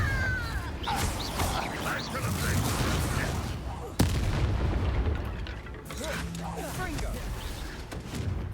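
Confringo fire spells in Hogwarts Legacy blast in repeated booming hits amid combat noise, with one sharp crack partway through, as someone talks over the action.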